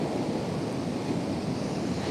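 Ocean surf breaking steadily on a northern coastline after a day of giant waves, a continuous loud wash of crashing water with some wind rumble against the microphone.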